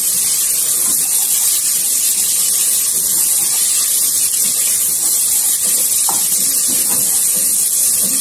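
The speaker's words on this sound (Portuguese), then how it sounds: "Aí agora eu vou colocar aqui a linguiça, ó, para dourar aqui um pouco junto com o alho" Calabresa sausage browns with garlic in a pan, giving a constant loud hiss and spray-like sizzle that holds evenly from start to finish, with faint scattered ticks and no voices.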